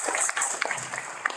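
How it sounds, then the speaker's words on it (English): Brief, scattered applause from an audience at a commencement ceremony, a short burst of individual claps that sound close and fairly light. "Let's give him an applause, please."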